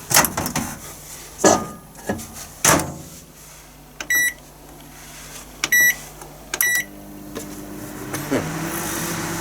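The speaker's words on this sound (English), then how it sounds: "we'll microwave this now for 30 seconds" A microwave oven hums steadily, heating a sticky toffee sponge for 30 seconds, while doors and objects clatter, then it beeps in three short bursts before the hum winds down.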